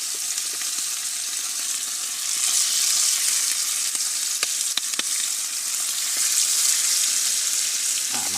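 Masala-coated sardines sizzle and spit in a hot pan, a loud continuous frying hiss that swells and eases, with a few sharp crackles and a clatter at the close.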